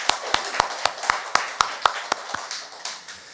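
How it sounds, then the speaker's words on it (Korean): Congregation at a Sunday worship service in a church clapping in a steady, even rhythm, about a dozen sharp, fairly close claps that thin out toward the end, with no talk. "2026년을 시작하게 하신 하나님께 우리 영광의 박수 올려드리겠습니다"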